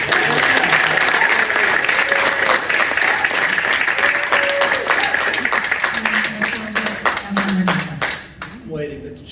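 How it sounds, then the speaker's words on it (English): An audience at a Whittier city council candidates forum breaks into loud, sustained clapping, a dense crowd applause that holds steady and then thins out and fades at the end. "she's got a lot of applause"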